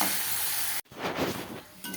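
Pabda fish frying in oil makes a loud, dense sizzle that cuts off abruptly partway through, then returns as a rougher, bubbling hiss.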